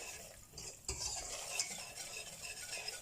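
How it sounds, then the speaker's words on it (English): Danish brown sauce being stirred in a pan, a steady scraping and swishing with a faint sizzle underneath, close and continuous, with a sharper clink of the utensil against the pan about a second in. "mix, mix, mix. So you mix until you get,"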